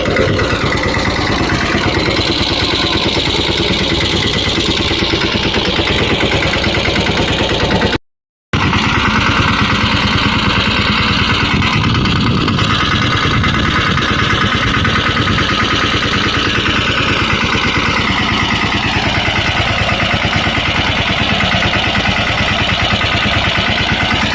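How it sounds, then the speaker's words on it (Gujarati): A tractor engine runs while making furrows in a farm field for sowing coriander. It is a loud, continuous mid-to-low mechanical drone with a steady idle-like vibration, broken by one brief cutout partway through. "એક ટ્રેક્ટર લઈને આવ્યા હે અને ધોરીઓ કરવાનું કામ હાલે હે"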